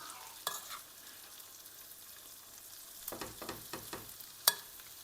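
Quiet frying sizzle of zucchini fritters in a pan over low heat, low and steady, with occasional scrapes and taps of a utensil stirring.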